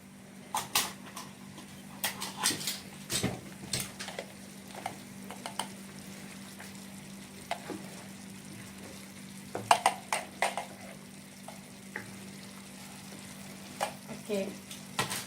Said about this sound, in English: stir it well. Let the vegetables cook.